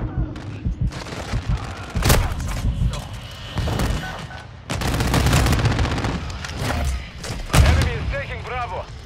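Dense Call of Duty Modern Warfare 2 multiplayer battle noise: bursts of automatic rifle fire and heavy thumps and booms overlap in irregular clusters, loud and close, with game radio voices calling out over the combat.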